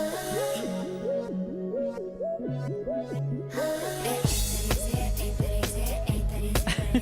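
A pop song from a 2010 album plays alone, with a bouncy synth melody that gives way to a heavy pounding beat and full mix partway through.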